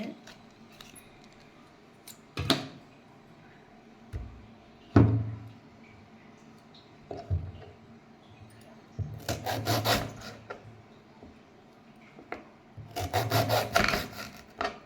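A knife cuts through a banana stem for juice, giving scattered close rasping strokes and knocks on a board, with grouped sawing bursts toward the end amid quiet pauses.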